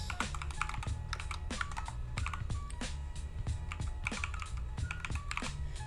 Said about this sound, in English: I'm so super bad typing here